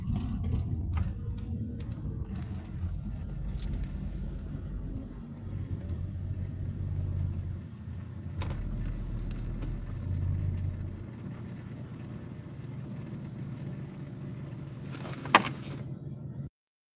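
A truck drives along a road, a steady low engine rumble and road roar from inside the cab, with a brief louder clunk near the end.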